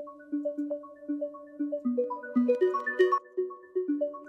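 Melodic synth arpeggio in an electronic track, left dry without OTT compression, repeating short tonal notes in a steady pulsing rhythm, fairly soft and alone with no voices.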